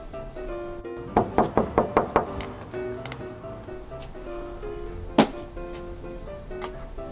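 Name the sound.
knocking on a door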